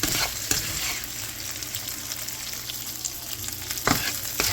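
Beef pieces sear in a hot pan with a steady, close sizzle and a few brief stirring scrapes, with no talking.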